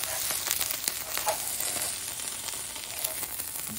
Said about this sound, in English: A little sizzle going on.